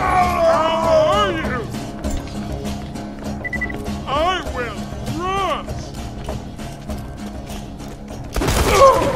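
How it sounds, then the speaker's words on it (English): Gunfire from Borderlands 2, a burst of shots with loud thumps and booms over game effects and musical tones, ending in a heavy blast; a voice is also present. "I plan to retaliate by shooting back."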